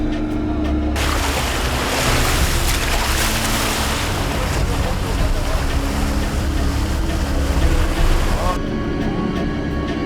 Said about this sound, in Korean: 현재 바다는 태풍의 영향으로 바람과 파도가 제법 만만치 않다.